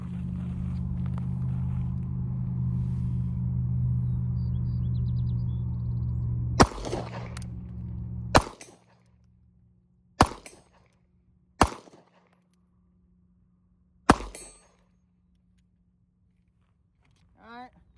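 MAC 9 DS pistol firing Winchester ammunition from a T-Sauce magazine: five sharp shots spaced one to two seconds apart after a low steady hum ends, each a loud crack with a short tail.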